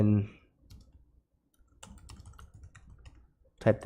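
Light clicking of computer keys as someone types, with scattered taps in bursts at close range and brief talk at the start and end.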